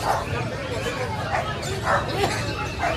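Several dogs yip and bark in short repeated bursts amid a busy, noisy outdoor pet market in Bulacan, Philippines, with people talking nearby.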